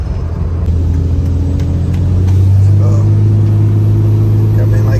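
Dodge Cummins diesel truck with a tuner accelerating in second gear at partial throttle, a loud steady engine drone that rises in pitch and strength midway, heard from inside the cab with someone talking over it.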